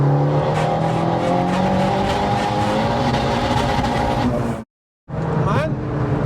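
A 387hp turbocharged front-wheel-drive Vauxhall Corsa engine pulls hard, a loud sustained rising roar heard from inside the car, cut by a brief gap before it climbs again.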